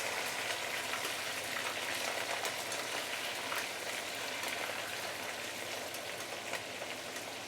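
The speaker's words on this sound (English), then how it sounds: "So let's put in the prawn. It will splatter, so be very careful." Prawns fry in hot oil, a continuous crackling sizzle with fine splattering pops, moderately quiet and steady throughout with no voices.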